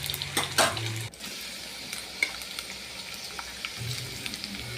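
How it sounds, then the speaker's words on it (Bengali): Chopped onion and potatoes frying in oil in a wok, with a steady broadband sizzle throughout, some metallic stirring clinks and a few low bumps near the start. "কড়াইতে তেল দিয়ে দিয়েছি, তারপরে দিয়ে দিয়েছি আলুটাকে ভালো করে একটু লাল লাল ভাজা হয়ে যাওয়ার পরে দিয়ে দেবো"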